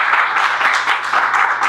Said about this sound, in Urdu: آپ لوگ مدد کیجیے گا اپنی تالیوں سے